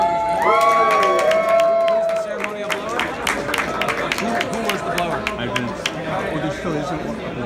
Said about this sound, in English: Why are we clapping if nobody blew out the candles?